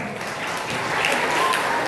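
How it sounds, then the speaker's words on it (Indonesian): Audience clapping for a speaker at a student motivational seminar, a continuous moderately loud patter of hands throughout with no speech on top. "Ya, kasih tepuk tangan dulu buat Pawas."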